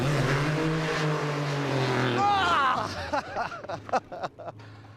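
Race car engine accelerating from a standing start in a short 30 ft sprint race, a loud rising whine with a quick gear-like pitch change, followed by choppy bursts as it pulls away, with voices over the start.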